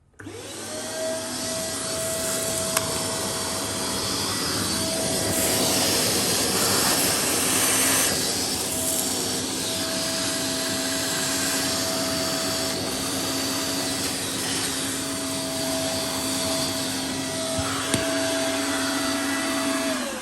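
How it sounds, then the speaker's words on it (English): A vacuum cleaner drones steadily and loudly throughout, a constant whining motor hum with a few brief knocks and bumps along the way. "Hoover that off again."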